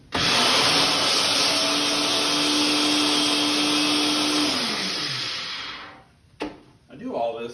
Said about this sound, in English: I got this little blender thingy here that I'll use to grind these up